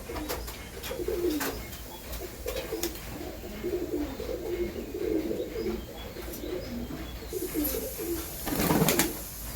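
Teddy pigeons coo in low, repeated rolling calls, fairly close, with faint chirps and a brief flutter of wings near the end.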